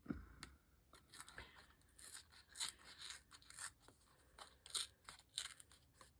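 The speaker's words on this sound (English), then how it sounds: "So I'm going to cut a little piece of this." Close, quiet snips of scissors cutting scrap paper, a series of irregular crisp cuts and rustles with short pauses between them, no talking.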